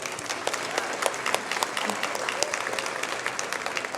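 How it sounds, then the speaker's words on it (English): A large audience at an awards ceremony applauds, dense sustained clapping from many hands at full loudness throughout, with a voice faintly present under the crowd noise. "So again, a round of applause for Paul tonight."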